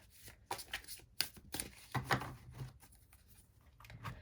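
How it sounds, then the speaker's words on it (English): Tarot oracle cards are shuffled at close range in quick bursts of riffling and snapping, with short pauses between them and no talk. "We'll draw a couple cards here for you."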